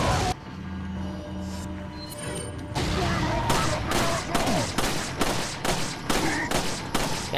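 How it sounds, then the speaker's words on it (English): Sniper rifle fire in the video game Resident Evil 4: after a few quiet seconds, a rapid run of sharp, loud gunfire bursts repeats at short, even intervals until the end. "I'm gonna snipe him once"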